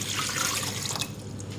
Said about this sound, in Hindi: पानी डालूंगी मैं 3 गिलास।